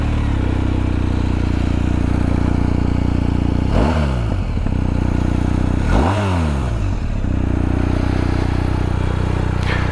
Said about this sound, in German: klingt denn dieser Boxermotor, und das hören wir uns jetzt mal an.